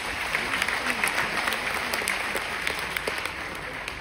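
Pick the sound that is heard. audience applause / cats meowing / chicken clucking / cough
audience applause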